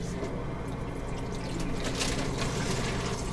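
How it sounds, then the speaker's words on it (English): Cold water pours steadily into a large bag packed with ice for homemade ice cream, a continuous close splashing and trickling wash that lasts throughout with no voices. "Then we're going to top off our large bag with cold water."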